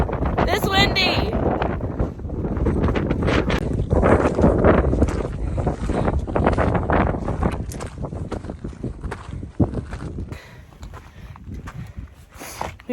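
Gusty wind on the Mt. Whitney trail out of camp buffets the microphone with loud, rumbling bursts while a voice talks intermittently underneath.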